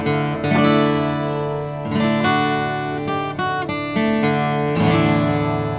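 A Deewhy SOLO-7 solid-top acoustic guitar played up close and fairly loud, with full strummed chords ringing out and repeated strums in a steady flow.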